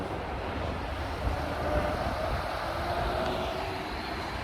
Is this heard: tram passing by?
yes